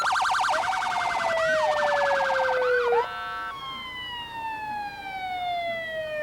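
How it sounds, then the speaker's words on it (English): Loud emergency vehicle sirens wail and yelp in overlapping cycles during a Cinco de Mayo parade, then shift to long, falling tones as the vehicles pass, with no voices. "it's kind of tough to compete against them sirens, Pep."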